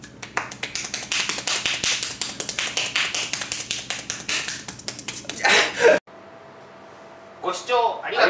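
Hand clapping at super-fast speed, a rapid run of sharp, close claps lasting several seconds, followed by a brief pause and some talking.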